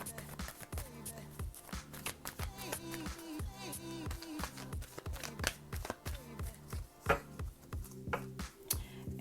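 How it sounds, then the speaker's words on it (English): Close, rapid riffling and slapping of a tarot deck being shuffled by hand, a quick run of crisp card flicks in an irregular rhythm with no voice over it. "Let's do a quick shuffle."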